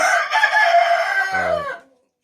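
A domestic rooster crows once, loud and close, in a long drawn-out call ending in a rough falling tail, then quiet.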